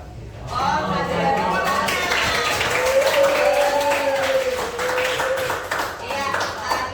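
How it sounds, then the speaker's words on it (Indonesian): Classroom applause for a student group that has just finished presenting, a steady stretch of clapping from a room of pupils with voices talking and calling over it throughout. "Iya, cukup tepuk tangannya."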